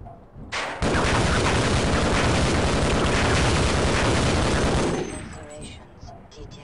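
A grenade blast in the shooter game Half-Life, bursting loud and roaring for about four seconds before fading into a low rumble.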